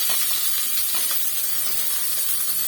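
Finely chopped onions sautéing in hot oil, a steady, loud, close hiss and sizzle with no talking.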